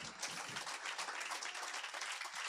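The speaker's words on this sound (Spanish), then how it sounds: "Dele un aplauso al Señor" Church congregation applauding the Lord, a soft, distant patter of many hands clapping steadily at low volume.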